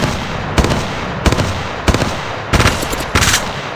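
Loud, close bursts of automatic gunfire in the video game Apex Legends Mobile, five or six rapid volleys separated by short pauses.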